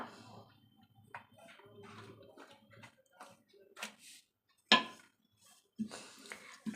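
A metal tawa griddle is set down on a stove while making aloo paratha, giving one sharp clank near the middle of the clip, with softer kitchen clatter and handling before and after it.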